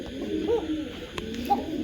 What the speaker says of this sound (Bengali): এই দেখেন এখানে এক পেয়ার ফেন্সি কবুতর দিলাম